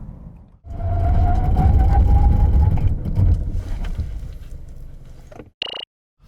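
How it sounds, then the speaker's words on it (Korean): A 2021 Cadillac CT5 with a 2.0 turbo engine is tested under braking: a loud, rushing roar of road and wind noise builds and swells for several seconds, then fades and cuts off, with a brief squeal near the end. "이번에는 캐딜락 CT5 과연 제동 성능은 어떤지 한번 볼까요?"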